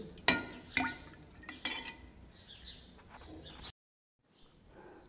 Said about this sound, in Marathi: तर चला बरणी आता मी व्यवस्थित झाकून ठेवून देते